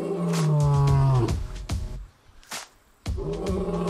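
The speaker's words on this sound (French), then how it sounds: "Le mâle passe sa journée à rugir pour affirmer haut et fort sa suprématie." A male lion roars loud and near, one long, powerful call followed by shorter grunting bursts, a brief pause, then another roar building up with no voices.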